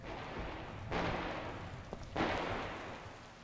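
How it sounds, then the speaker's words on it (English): Two sharp, heavy gunshot blasts about a second apart in the VR game Contagion VR: Outbreak, each followed by a long fading rumble, with no talking. "Now I'm hearing gunshots."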